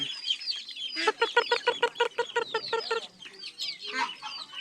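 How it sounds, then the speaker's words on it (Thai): A black chicken clucks in a rapid, rhythmic run of short notes, then trails off into softer, scattered clucks nearby. "เป็นไก่ดำ"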